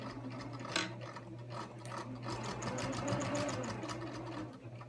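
A sewing machine runs continuously at a steady, even speed with a longer stitch length, sewing binding onto a tote bag, its mechanism whirring and ticking close by throughout.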